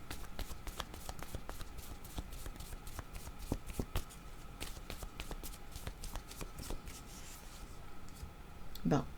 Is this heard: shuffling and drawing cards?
yes